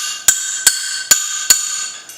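Four sharp, ringing metallic strikes on a metal motorcycle crash guard at an even pace, each hit leaving a bright sustained ring, followed by a fainter fifth tap.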